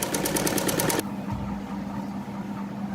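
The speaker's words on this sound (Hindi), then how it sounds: "पहले एक पैर की सिलाई, फिर उसी को फोल्ड करके डबल से स्टिच करना है।" A sewing machine stitches the folded hem of an apple-cut kurti in a fast, close, rattling burst of about a second before stopping, leaving a quiet room hum.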